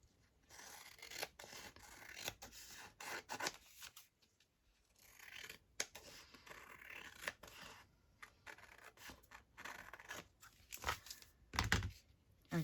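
Scissors snip through a scrap of fabric while mixed-media flow-stitching tags are made, giving a run of crisp, close cuts separated by soft rustling and handling of the material, with short pauses and no talking.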